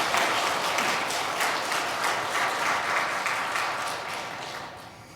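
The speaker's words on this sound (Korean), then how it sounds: "박수로 맞아주시기 바랍니다." A church lecture audience applauds to welcome a priest as speaker, a dense, steady burst of many hands clapping at once, loud and close, fading slightly toward the end.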